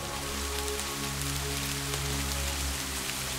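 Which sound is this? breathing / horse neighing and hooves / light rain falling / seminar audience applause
light rain falling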